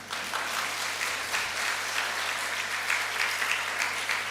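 A church congregation claps steadily throughout, a dense, even wash of applause at moderate level with a low hum underneath and no voices.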